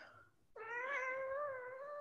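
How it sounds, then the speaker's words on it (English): A pet cat lets out one long, drawn-out meow, loud and close, starting after a brief quieter moment and holding steady to the end. "Your cat's speaking up."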